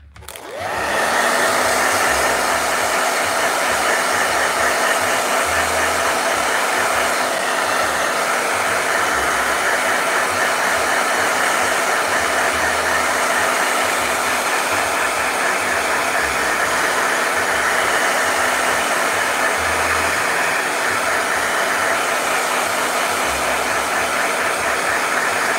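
A blow dryer switches on and runs continuously at a loud, steady whir with a constant high hum for about twenty-five seconds, with no other sound.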